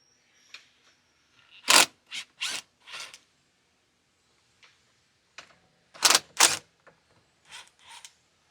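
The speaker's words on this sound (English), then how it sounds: "You'll use a 13mm socket to remove the 2 bolts" A 13mm socket ratchet works the passenger grab handle bolts on a Polaris Ranger XD 1500, giving short, close, sharp bursts of clicking in two uneven clusters separated by quieter pauses.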